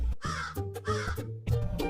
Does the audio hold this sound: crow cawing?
yes